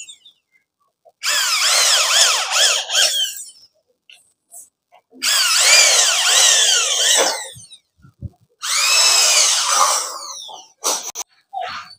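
A power drill whines loudly in three long bursts separated by pauses while drilling for polycarbonate roofing sheets, with faint clicks and handling noises between runs.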